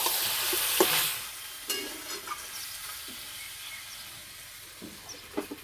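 Chicken fries in a pan as the lid comes off, releasing a burst of hissing steam followed by scraping stirs and softer ongoing sizzle, near and without speech.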